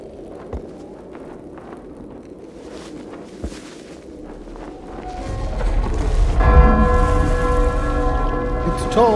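A bell tolls in the village of the game Eclipsium, its long ringing overtones swelling in after a few seconds of quieter ambience and hanging steadily to the end.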